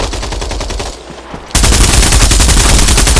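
Rapid automatic gunfire from the video game Bullet Run rattles loudly and continuously, briefly dropping to quieter shots before a louder, denser burst takes over.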